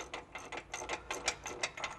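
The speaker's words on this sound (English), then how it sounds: "U-bolts and just tighten them up gradually" A ratchet wrench gradually tightening U-bolts on an ATV snow plow mount, done on the ground: quick, close, evenly spaced clicks in short bursts, with no voices.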